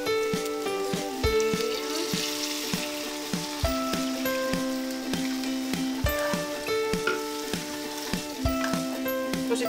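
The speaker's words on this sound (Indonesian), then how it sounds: "Kita tumis sampai kayak gini, baru kita masukin air kelapa." Coconut water is poured into a spice paste sautéing in a pan. A steady sizzle and frying hiss continue throughout, with repeated utensil clinks and stirring knocks close by.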